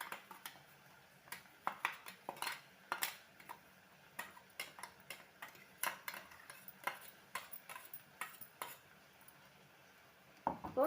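Grated coconut stirred with spinach in a pan for mullangi keerai poriyal: sparse, quiet ticks and scrapes of a spoon against the pan at irregular intervals, with a few louder knocks and no talking.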